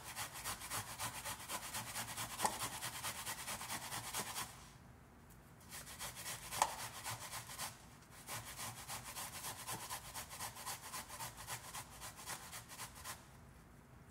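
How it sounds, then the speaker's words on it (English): Plantains are grated by hand in steady back-and-forth strokes, a continuous close rasping scrape that pauses briefly twice before resuming. "what I'm doing is grating the plantain"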